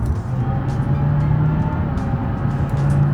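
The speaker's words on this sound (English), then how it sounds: "but listen to the engine." ETK 900 luxury car in a driving game, a nearly two-ton 230-horsepower diesel mild hybrid, its engine droning steadily with a low humming tone and a constant road rumble beneath.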